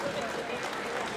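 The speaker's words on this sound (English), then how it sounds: "A round of applause for Sean Oshii" An audience at the 2020 Golden Shears blade shearing competition claps steadily after a competitor's round, a dense, continuous applause from a sizable crowd with no distinct voices on top.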